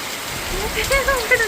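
Heavy first-monsoon rain in Nagar falls as a steady, close hiss while someone talks over it during the brief stretch.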